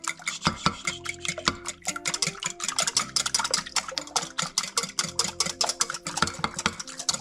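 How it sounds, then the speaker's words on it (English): Eggs beaten with a whisk in a bowl during home dinner cooking: a fast, steady run of close, bright clicks and taps against the bowl, with a soft tonal background underneath and no talking. "Let's get the old whisk. Let's do it. Let's beat these up."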